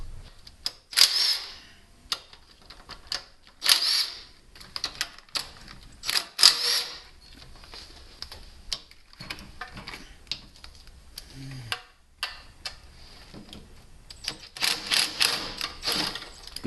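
A ratchet loosens the valve cover bolts on a GM Vortec 5.7 (350) V8, heard as several short bursts of quick metallic clicking separated by pauses, close by and fairly quiet.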